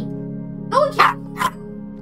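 Dog barking in the horror video game Little Nightmares, two or three short barks close by over a steady low hum from the game.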